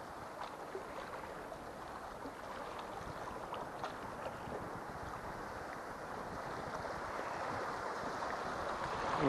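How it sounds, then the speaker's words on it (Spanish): Steady broadband wind blowing in from the coast during a rockfishing session for sea bass, a continuous close rushing roar with microphone buffeting and water noise, with no speech. "Tiene viento desde costa."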